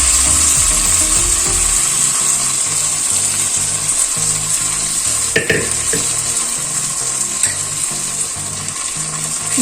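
Bottle gourd mixture added to fried onions in a pan for a Telugu-style curry, frying with a steady sizzle and occasional stirring clinks, close and continuous.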